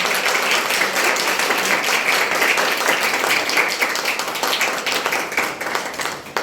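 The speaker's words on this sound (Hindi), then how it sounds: "तो माँ के लिए जोरदार तालियां दें।" An audience at a church gathering gives a sustained round of loud applause, dense clapping that stays steady and then begins to taper off near the end.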